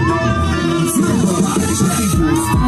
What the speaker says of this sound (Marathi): जोरदार टाळ्या जाऊ द्या आजोबांसाठी